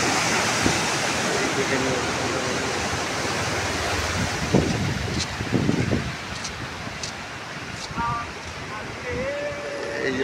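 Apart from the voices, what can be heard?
water released from a canal gushing out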